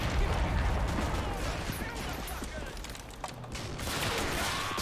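Gunfire from soldiers in the video game Men of War during a mountain D-Day battle, a continuous dense crackle of rifle and machine-gun fire with distant rumbling explosions, loud and sustained throughout.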